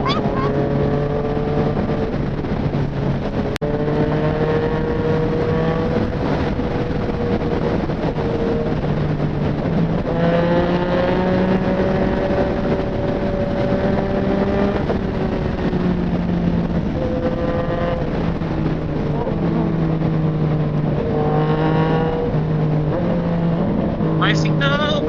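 A Yamaha MT-09 motorcycle engine holds a steady, loud drone on a night ride in Malaysia, its pitch rising and falling with throttle changes under constant wind rush. A rider talks over it.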